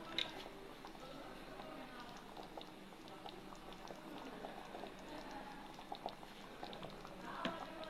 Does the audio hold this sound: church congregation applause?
no